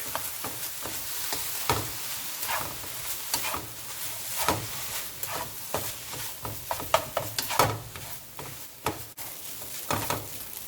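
Fried rice with smoked sausage and soy sauce sizzles and crackles in a hot pan, with bursts of stirring and scraping in an uneven rhythm, close and fairly loud, no talk.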